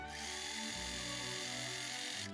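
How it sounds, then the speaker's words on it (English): Machine stitching along the seam of a fingerless cloth glove: a steady, loud motor whir with a fast needle rhythm running without a break for the whole stretch, no voices. "So we're gonna sew this line up to here, leave a space, and then continue sewing until the glove is closed"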